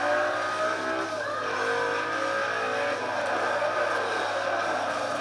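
A car in the racing game Forza Horizon roars loudly at high revs and skids through a drift, a sustained engine whine with tire squeal running throughout.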